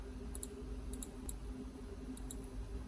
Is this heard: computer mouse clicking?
yes